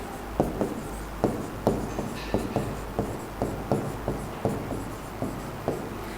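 A pen writes by hand in a Hindi notebook lesson, a steady series of close scratchy strokes in a regular rhythm across several seconds, with no voice over it.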